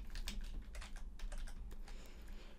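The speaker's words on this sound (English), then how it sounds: "then we type in iPhone 13 mini." Computer keyboard typing while entering a lookup value into an Excel spreadsheet, a quick close run of soft key clicks in an uneven rhythm, alone without speech.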